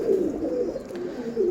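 Pigeons on a sunny rooftop give soft, rolling coos at close range, a steady low warbling murmur from a small flock with no talking over it.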